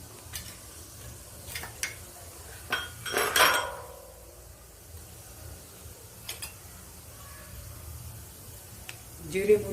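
Cumin and mustard seeds sputter in a hot kadhai of oil: a brief burst of crackling pops stands out amid scattered clinks of pans and utensils.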